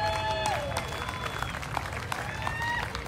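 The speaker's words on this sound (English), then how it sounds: "Once again, round of applause for Dr. Kalama Okainani Heo." Outdoor crowd applauding at a rally at Iolani Palace, dense clapping under a voice speaking, with faint whistles and cheers.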